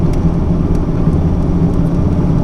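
A 1992 Ford Mustang 5.0 LX Fox body notchback V8 rumbles in a steady, loud, deep idle nearby, with no voices over it.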